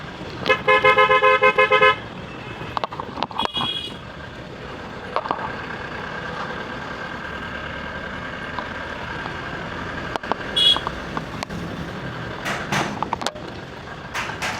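A car horn sounds in a long, loud blast on a narrow, winding road in Shahrasti, Chandpur. Further short honks and passing vehicle noise follow later.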